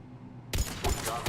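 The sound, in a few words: gunshot headshot in Mass Effect video game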